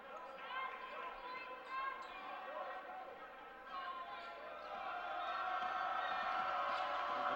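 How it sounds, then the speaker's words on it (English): Crowd noise at a high school basketball game, Basehor-Linwood against Piper, a steady roar of voices and cheering that swells toward the end, with a commentator talking over it. "The crowd gets into the ball game."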